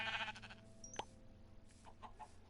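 A sheep bleats in a survival video game, giving one short wavering call, then a quieter bleat, set against a low ambient game background with a brief tonal blip.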